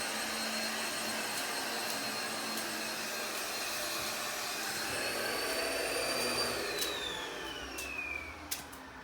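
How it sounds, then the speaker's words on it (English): A shop vacuum runs steadily and loudly, sucking up water from a flooded house, its broadband roar with a high whine that drops in pitch near the end as it winds down. "They brought over a shop vacuum. We're trying to soak up as much water as we can."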